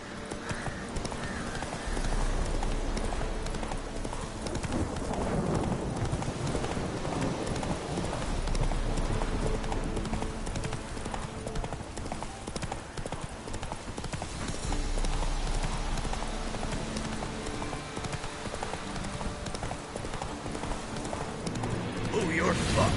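A horse gallops in a video game, with rhythmic clip-clop hoofbeats running steadily under dense game music and ambient noise, moderately loud throughout, while voices talk over it.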